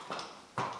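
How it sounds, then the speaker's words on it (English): A horse walks back toward the camera, giving two distinct hoof clops close by, about half a second apart, on an otherwise quiet ground. "So our horse is coming back."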